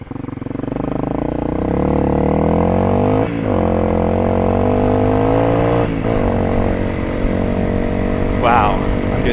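A Honda CRF250L dirt bike with an Öhlins shock drones steadily while riding over loose rock, its engine note rising and falling close by, with a person talking over it.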